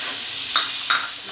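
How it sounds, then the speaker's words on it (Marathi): Tomatoes stirred into a spiced onion masala give a soft steady sizzle, broken by two quick spoon scrapes against the pan. "असं मिक्स करून घ्यायचं टोमॅटो घातल्यावर"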